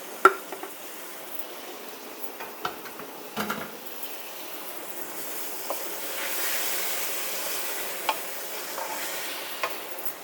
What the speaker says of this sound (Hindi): अब मैं इसमें डाल दूँगी ये गोश्त